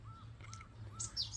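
Small birds chirp faintly at dawn in the Korean countryside, a few thin high calls near the end over a steady low hum.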